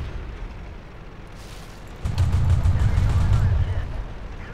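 An enemy tank fires on the player in World of Tanks, and after about two seconds a dense, booming rumble of game gunfire builds and holds loud to the end.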